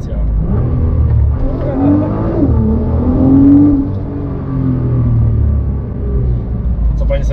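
A Nissan GT-R engine rumbles and revs up, its pitch rising as it accelerates, while people talk over the steady road noise.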